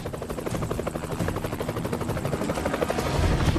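A helicopter approaching to land, its rotor making a loud, steady rapid chop that grows slightly heavier toward the end, with no voices over it.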